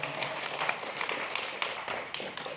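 Audience applause breaks out at a live podcast anniversary party, a fairly faint, steady patter of scattered hand claps from a small crowd that runs throughout without talk.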